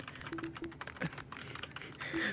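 Fast typing on a computer keyboard while writing code in an IDE: a dense, steady patter of quiet key clicks close to the microphone, with no voice over it.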